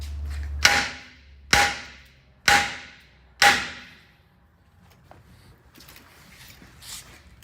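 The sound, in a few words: small sledgehammer hitting a metal bumper bracket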